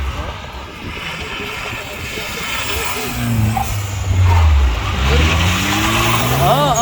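A turbocharged drift car revs hard at a drift and rally meet, its engine rising and falling in pitch with tire squeal and skidding, loud and close, while people talk over it.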